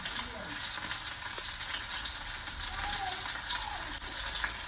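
Bangude mackerel coated in masala fries in oil on a tawa, giving a loud, dense, unbroken sizzle that holds steady throughout, close up, with no talk.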